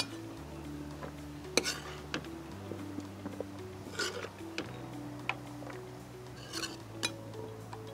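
Plates and cutlery clink a few times in a home kitchen while fried ingredients for a Diwaan biryani are set aside, sharp scattered clatters over a steady low hum with some quiet talk nearby.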